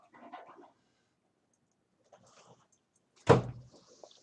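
A dog in a home kitchen barks once, sharp and close, after a few quiet shuffling and knocking sounds.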